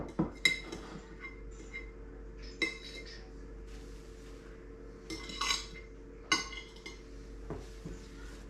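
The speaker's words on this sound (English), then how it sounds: "So now I'm just gonna take my knife and clear out the clumpy" A knife clinks and scrapes against a pan while breaking up clumped butter for banana bread, with several sharp metallic taps and scrapes spaced across a quiet kitchen background.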